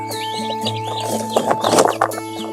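Young farm chicks, hatched from farm-hen eggs crossed with a desi rooster, cluck and peep together while pecking at grain, a busy close chorus of small calls over steady indoor background noise.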